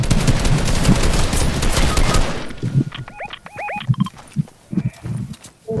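Rapid automatic gunfire in Fortnite, players shooting at a ship, loud and continuous for a couple of seconds before giving way to scattered thumps and game effects; no talking.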